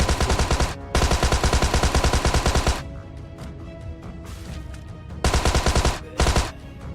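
Loud automatic gunfire in a battle royale game while fighting off a zombie attack, long sustained bursts broken by short pauses, then renewed rapid volleys, with no speech.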